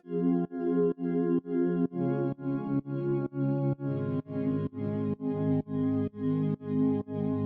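Two layered synth pads, heavily compressed with OTT in FL Studio, pulse in a steady chopped rhythm, sustained chords swelling and cutting off repeatedly with a processed sheen.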